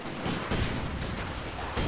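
Machine gun fire in the video game Company of Heroes 2: a short, dense, distant-sounding burst of rapid shots over a rumbling battle background.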